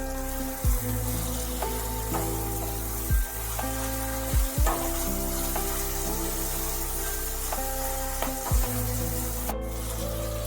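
Sliced medium eggplant frying in a pan for spinach lentil dal gives a steady close sizzle, broken by a few sharp clacks of a utensil against the pan, with no talking.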